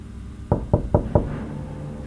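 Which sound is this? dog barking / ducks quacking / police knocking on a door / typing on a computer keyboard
police knocking on a door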